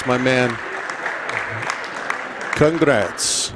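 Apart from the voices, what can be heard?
both teams applauding at senior night basketball game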